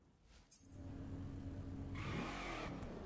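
A car cruising down a coastal road in The Crew, its engine a steady, continuous drone that swells slightly as it goes, with a rushing wind-like wash in the later half.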